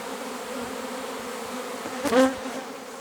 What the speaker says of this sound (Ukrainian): Ми зараз струсимо сюди Дві-три рамки бджоли